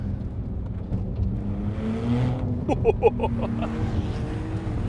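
A 2021 Porsche 911 Turbo's engine hums and whirs steadily while driving, swelling briefly as revs rise midway, a continuous loud drone heard from inside the car.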